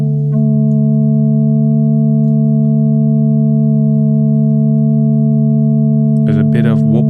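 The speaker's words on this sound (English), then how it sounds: "So I think this can work very nice for as a pad sound." Sustained synthesizer pad holding a steady multi-note chord with a gentle wobble, loud and continuous, with a short burst of talk entering near the end.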